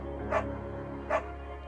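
Two short barks from a scruffy, undersized beagle in the video game Firewatch, spaced under a second apart over a steady low hum of game ambience.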